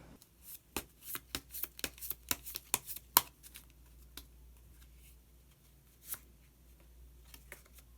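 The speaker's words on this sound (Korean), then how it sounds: "마법사 카드 한 장 더 뽑아 보도록 하겠습니다" A tarot-style deck of wizard cards is shuffled, a quick run of crisp, close card flicks and snaps in steady rhythm that stops, followed by a few faint scattered card rustles in a quiet room.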